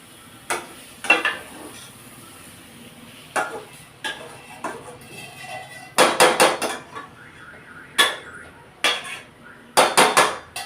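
Masala for a spicy brinjal curry stirred in a pan over low heat, repeated metallic clanks and scrapes of a spoon against the vessel in irregular bursts, with quiet gaps between.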